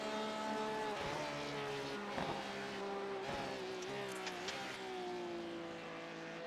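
A race car engine in the iRacing game at Le Mans holds a steady high whine that rises in pitch and drops briefly at each upshift, continuing at high speed without a break.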